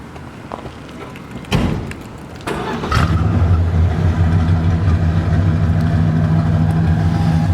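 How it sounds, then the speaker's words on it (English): A 1967 Plymouth Satellite's 318 V8 engine cranks and catches, then settles into a steady, deep idling rumble through a new exhaust with turbo mufflers, close by and continuous. "brand new exhaust, turbo mufflers, not too loud"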